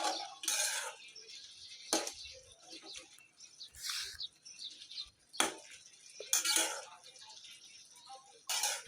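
Greens cooked with red lentils, mishti kumro (pumpkin) leaves, are stirred and turned in a cooking pot, giving a few sharp metallic scrapes and clatters separated by softer rustling.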